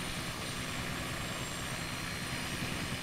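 A helicopter in a flight video game drones continuously with a steady, even engine and rotor roar, moderately loud and unchanging, with no voices.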